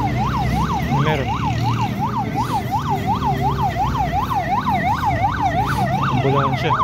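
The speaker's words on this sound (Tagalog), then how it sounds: "Ambulansya." An ambulance siren wails loud and close in Bulacan, Philippines, its pitch rising and falling in a fast repeating cycle over traffic noise.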